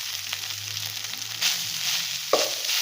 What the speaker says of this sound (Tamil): இது லைட்டாக ஃப்ரை ஆகட்டும்.